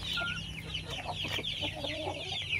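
A gamefowl broodcock in a backyard coop gives soft, rapid clucks and short chirpy calls close by over a low steady background hum, with no talking.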